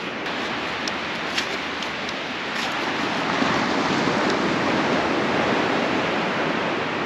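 Ocean waves washing in and out at a beach hot spring, a steady close roar of surf that swells slightly louder midway, with no talk.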